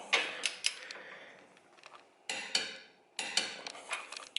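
A hand ratchet clicks in short rapid bursts while tightening a suspension bolt on a 10th-generation Honda Accord during a lowering spring install, three close bursts separated by brief pauses, with no talk.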